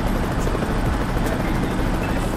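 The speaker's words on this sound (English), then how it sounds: "Oh, they're the police helicopter" A police helicopter in the truck-driving video game American Truck Simulator, on a Mexico Durango route from Mazatlán to Guamúchil, gives a steady, droning rotor and engine rumble that stays constant and fairly close, with no talking.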